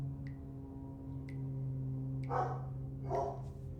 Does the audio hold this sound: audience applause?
no